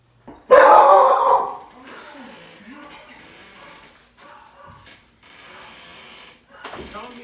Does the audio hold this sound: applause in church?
no